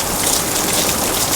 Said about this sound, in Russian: Заодно посмотрим, как эта пленка выдерживает град.